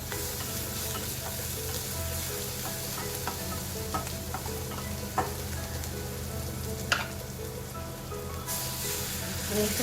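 Pea and potato stir-fry sizzling in a pan with water added, a continuous dense frying hiss with scattered crackles and a few spoon clinks, fairly quiet.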